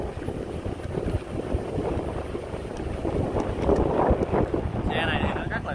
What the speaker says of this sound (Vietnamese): Gió quá nha các bạn, gió quá không nghe rõ